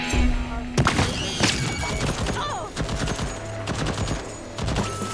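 Turret gunfire in Deathloop, a series of sharp, punchy shots and thuds with metallic clanks scattered through a busy game soundscape, with other effects layered underneath.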